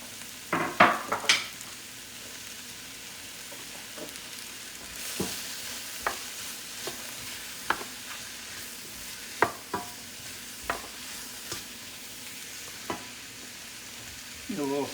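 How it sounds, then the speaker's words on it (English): Two garlic cloves fry in a hot pan for chicken fricassee, a soft steady sizzle punctuated by clinks and scrapes of a utensil stirring, close with no talking. "I'm now adding a little bit of 2 garlic cloves into it"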